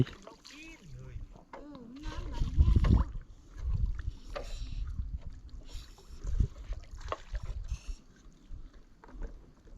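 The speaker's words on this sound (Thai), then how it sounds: "น้ำไหล" Water flows and laps around a lift-net fishing spot in gusty wind, with sloshing and splashing bursts under a voice talking nearby.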